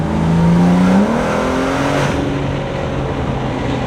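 BMW G80 M3 engine and intake revving hard at a drag strip, a loud close roar whose pitch climbs and then drops after a shift before holding steady.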